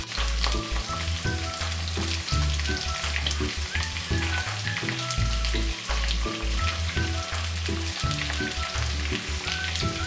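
Red onions going into hot oil with whole spices such as cloves, star anise and bay leaf for a Punjabi chicken gravy, giving a steady loud sizzle and fry throughout with low, thumping background noises and no talk.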